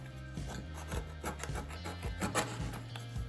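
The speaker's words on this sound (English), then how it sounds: "What I'm going to start with is using a craft knife. I'm just going to carefully take off the edges" A craft knife shaves the edges of a board to bevel them, giving close, repeated scraping and rasping strokes in an uneven rhythm, with no voices.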